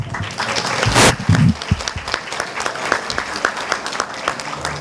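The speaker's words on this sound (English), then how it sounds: "So let's give them all a round of applause." A nightclub crowd claps in a dense burst of applause, close and loud at first, then thinning into scattered claps.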